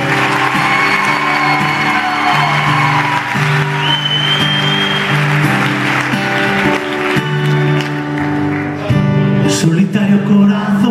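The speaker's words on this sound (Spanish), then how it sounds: "Un aplauso para Torrelavega." Concert audience applause in Torrelavega during a live pop-rock show, steady clapping and a few whoops mixed under sustained band tones and chords throughout.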